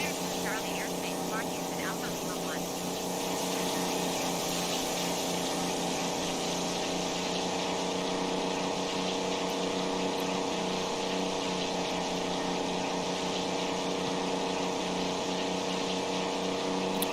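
A Spitfire Mk1A engine in a dive in Microsoft Flight Simulator, a loud continuous droning roar with steady harmonic tones, with a voice talking over it.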